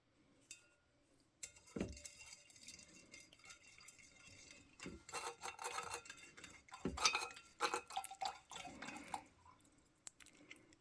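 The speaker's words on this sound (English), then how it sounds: "turn off the stirring and sort of stir this a bit" A copper nanoparticle solution, with the magnetic stirrer switched off, is stirred by hand and gives quiet, irregular glassy clinks and taps against a faint background.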